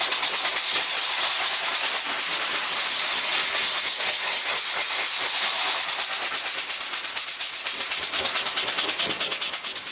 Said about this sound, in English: I've got some 80 grit sandpaper, and I'm just making sure the surrounding area is rough enough to receive the repair materials